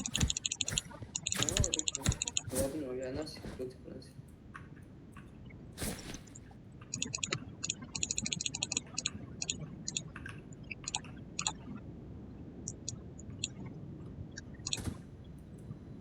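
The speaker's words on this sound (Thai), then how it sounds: "นั่นคีย์บอร์ดก็ดังจริง" Loud, rapid clacking of a computer keyboard during a Roblox game comes in fast bursts, with quieter stretches of scattered key taps and faint background voices.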